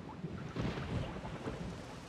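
Thunder rumbles low and broad as a storm rolls in within The Wind Waker HD, a swelling roar with windy noise, no speech.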